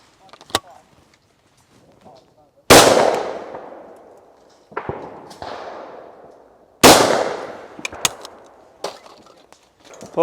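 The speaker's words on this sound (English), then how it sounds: "So the first gun I'm going to shoot and try out is I'm going to try the classic double." Two loud, close blasts from a classic double-barrelled shotgun at clay targets, each a sharp crack with a long decaying echo. Fainter clicks and knocks from handling the gun sit between the shots.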